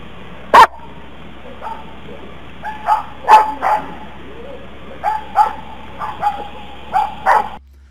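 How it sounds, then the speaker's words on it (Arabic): AI-generated dogs barking at a distance with an echoing tail: a sharp opening bark, then a scattered series of yips and barks, some doubled, spread over several seconds against a quiet background. "انا قايل له هنا انا عايز صوت كلاب بتنبح وفي مسافة بحيث يبقى في زي صدى صوت موجود"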